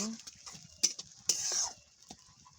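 Ground paste of chilli, onion, garlic, ginger and cumin being stir-fried in a pan for a chicken leg bhuna, with soft scraping and a couple of sharp spoon knocks over a faint sizzle.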